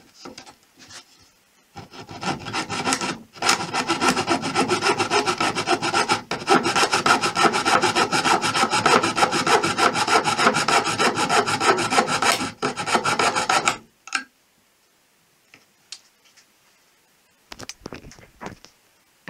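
A manual scroll saw rasps through wood with a fast, steady back-and-forth stroke for about twelve seconds, close and loud, then stops and leaves a few short scrapes and knocks.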